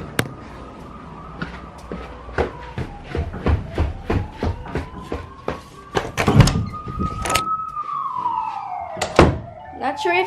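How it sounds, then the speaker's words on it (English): A home security door alarm from an online shopping haul wails with a rising and falling siren tone, loud and continuous, punctuated by knocks and thumps, while a person talks over it. "Ayan, nag-alarm na siya, kulay pula."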